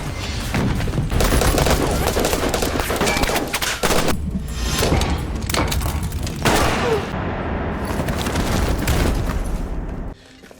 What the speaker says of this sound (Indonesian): Tanpa basi-basi, Janice langsung melepaskan tembakan